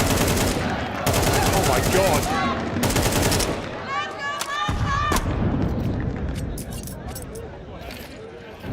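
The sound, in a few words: gunfire in the video game Counter-Strike 2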